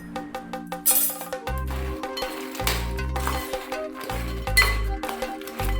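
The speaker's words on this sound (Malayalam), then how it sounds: "അതിലേക്ക് വറുത്ത് വെച്ചിരിക്കുന്ന ചിപ്സ് ഇട്ട് ഒന്നിളക്കാം" Fried banana chips are stirred into thick jaggery syrup off the heat, giving irregular knocks, clinks and scrapes of a spoon against the pan, close by with quiet gaps between strokes.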